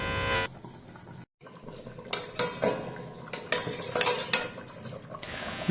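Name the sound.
lid being placed on the cooking pot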